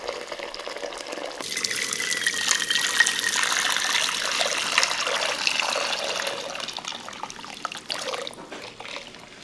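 About 3.5 liters of water poured into a cooking pot, a continuous gushing splash that starts suddenly and keeps up for several seconds before easing toward a trickle at the end.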